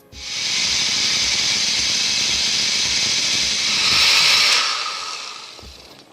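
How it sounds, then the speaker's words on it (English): A blender purees a vegan sauce of paprika, cumin and parsley, giving a steady loud whirring roar that holds for about five seconds, swells briefly near the end, then winds down with no talking. "Now we're going to blend it."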